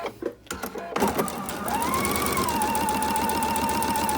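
A sewing machine with 100% cotton thread stitches two cotton test strips for a T-shirt quilt. A few handling clicks come first, then a close, steady motor whir with rapid needle chatter and a rising whine runs continuously to the end.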